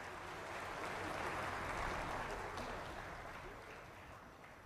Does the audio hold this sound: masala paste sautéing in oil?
no